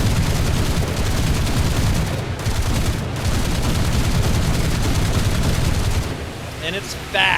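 In War Thunder, a Fairmile D gunboat's Lucas machine guns and cannon fire: dense, continuous rapid gunfire roars nonstop, loud and close, with heavy rumbling cannon bursts mixed in.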